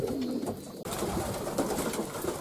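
Pigeons gather in front of the exit of a racing-pigeon loft, their low coos and bird calls running steadily and close throughout, with a brief dropout partway through.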